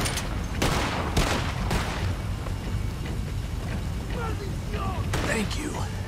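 Gunfire in Red Dead Redemption 2: several sharp, close shots and bursts crack over a dense rumbling background, spaced unevenly across the stretch, with voices talking in between.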